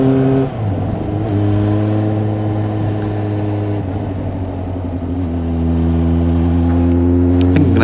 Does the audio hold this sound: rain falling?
no